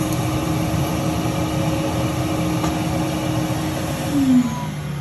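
An optical lens edger grinds a safety bevel on a lens, a steady mechanical whir and hum with a faint rising whine near the end, and no one speaking.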